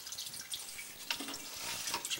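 A steady stream of water runs and splashes into a residential sewer drain during a sewer scope inspection, a continuous trickle with scattered drips, fairly quiet and alone.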